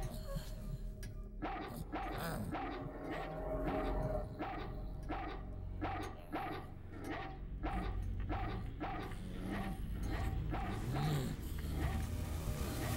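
Dog in a horror video game barking repeatedly in quick, loud yips and bow-wows, with whimpers mixed in, over a low rumbling game soundtrack.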